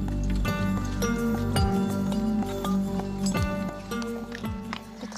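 Horse hooves clip-clop at a steady walking pace on a mountain trail in Auvergne, close and clear, with faint chinking of tack between the footfalls.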